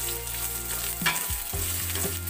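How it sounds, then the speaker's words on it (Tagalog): Garlic, onion and ginger sautéing in a pan for a Filipino coconut-milk tilapia dish, a steady close sizzle with stirring and a few clinks of the utensil against the pan. "Bayan lang muna natin magisa-gisa ang bawang, sibuyas, luya"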